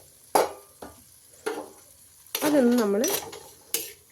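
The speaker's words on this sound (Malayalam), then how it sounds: "ആ എണ്ണയിലൊന്ന് വഴറ്റി കൊടുക്കുക." Chopped tomato and onion fry in hot oil while being stirred in a pan. A low sizzle is punctuated by several sharp scrapes and clinks of the spatula, and a person speaks briefly in the middle.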